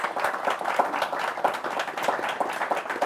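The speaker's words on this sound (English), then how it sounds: "How about a round of applause for our excellent panelists?" Steady applause from a room full of people fills the whole stretch at an even level, without pauses.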